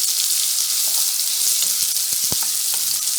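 Chopped medium onion and a large village pepper sauté in a hot pan for chicken orzo pilaf, giving a loud, steady hiss of frying with a few soft clicks and stirring knocks near the end.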